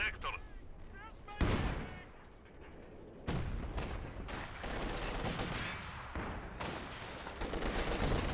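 Gun barrage in the Company of Heroes 2 video game, a loud, dense run of overlapping gunfire and artillery-like blasts with sharp bursts starting and stopping, heard under someone commentating.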